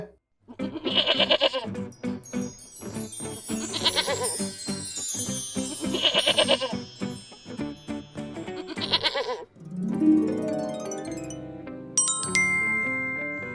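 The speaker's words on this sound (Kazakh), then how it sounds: "Ешкі." A goat bleats several times, long wavering cries one after another, loud and close, ending with a brief tinkling jingle.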